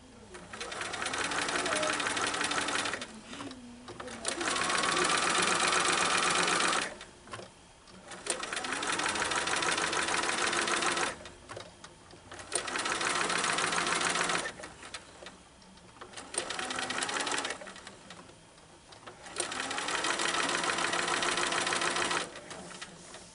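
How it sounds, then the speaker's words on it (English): Sewing machine stitching a quilt block for a curved nine-patch, running in steady bursts of a few seconds each with short pauses between, fairly loud and close, with a person talking at times. "You're really not sewing on much on that corner because it's such a thin little point."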